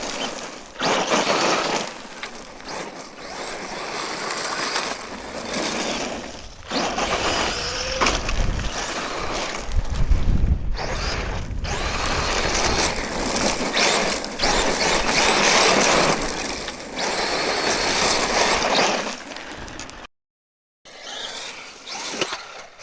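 A Traxxas Maxx 4S RC car makes fly-bys and jumps outdoors, its motor and drivetrain whining and ratcheting loudly and continuously, rising and falling as it passes, with a brief dropout near the end.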